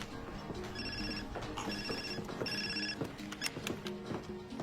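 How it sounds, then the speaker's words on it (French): A telephone rings in repeated electronic bursts, three clear trilling rings in close succession, loud and near, with no voices over it. "Allô? Docteur Lees?"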